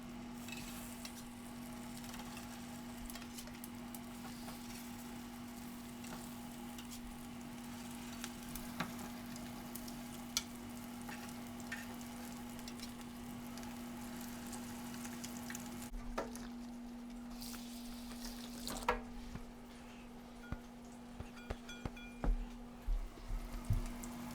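Fish cakes frying in hot oil make a soft, continuous crackling sizzle under a steady low hum, with scattered pops and a few brief clicks and stirs toward the end.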